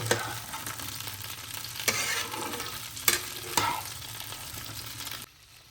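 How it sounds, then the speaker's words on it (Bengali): Stemless jujube fruits being stirred in hot oil in a pan for a pickle, with a soft steady sizzle and several sharp scraping knocks of the spoon against the pan, ending abruptly. "বোটা ছাড়িয়ে রাখা কুলগুলো তো এবার আমি তেলের সাথে ভালো করে এটা দু মিনিট নাড়ি চাড়িয়ে নেব"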